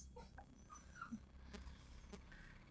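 An upset dog whimpers faintly a few times in a noisy room, with short soft yips and whines scattered through a low background rumble.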